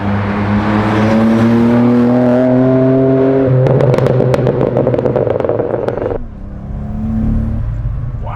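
A BMW E30 M3 engine revving hard as it accelerates, a loud close climbing wail that spins up near the top, with crackling bursts before the pitch drops as the revs fall away.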